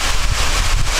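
Heavy rain and wind in a Gears of War game trailer, a loud, gusty roar of wind-driven rain with deep buffeting rumble, constant and close.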